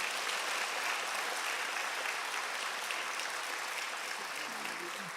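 Church congregation applauding after an Easter cantata by the choir, a steady wash of many hands clapping heard from a distance, soft and continuous without speech.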